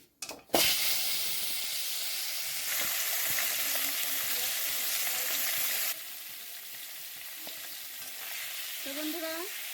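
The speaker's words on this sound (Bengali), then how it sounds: "এখন মাছের মাথাটা আমি ফ্রাই করে নেব।" A fish head fries in hot oil in a kadai for Bengali muri ghonto. A loud, continuous sizzling hiss erupts after a short clatter and carries on close by, swelling and easing in intensity, with faint utensil sounds near the end.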